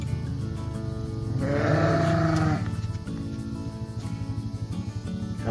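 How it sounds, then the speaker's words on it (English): Dorper sheep and young lambs bleat on a ranch in Weiser, Idaho, one loud drawn-out call rising over a steady chorus of overlapping bleats, close by and without talk. "Let's look at all these baby lambs."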